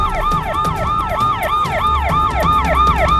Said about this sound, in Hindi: एम्बुलेंस है भाई